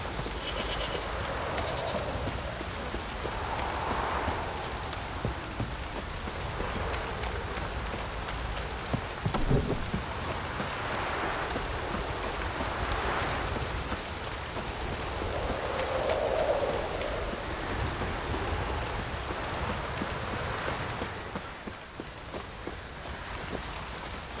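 Light drizzle in The Witcher 3, a steady soft hiss of rain falling outdoors across the whole stretch, with faint ambient game sounds underneath and no speech.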